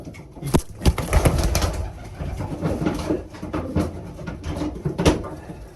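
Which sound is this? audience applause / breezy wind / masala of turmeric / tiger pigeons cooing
tiger pigeons cooing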